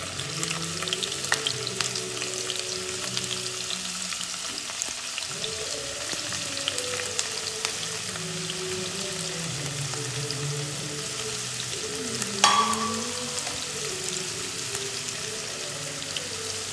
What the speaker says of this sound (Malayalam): ഇപ്പോൾ നമ്മളിതാ എണ്ണ ഒന്ന് ചൂടായി കഴിഞ്ഞാൽ പനീറൊന്ന് റോസ്റ്റ് ചെയ്തെടുക്കാം